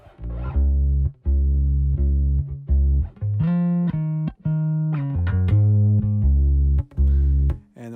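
A bass guitar plays a short melodic lick, sustained low notes sliding between pitches with brief gaps, loud and close with no voices.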